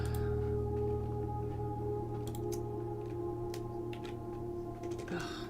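Typing on a computer keyboard, faint scattered key clicks in small bursts under a steady background hum, with no talk.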